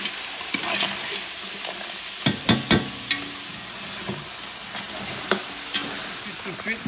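Chili, garlic, ginger and salt sizzle steadily in a hot frying pan while a utensil stirs them. Sharp scraping knocks against the pan come at irregular intervals over constant loud frying.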